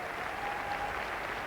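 Arena crowd applauding figure skating pair Danielle and Stephen Carr of Australia at the 1994 Lillehammer Olympics, a dense, even roar of distant clapping filling the space.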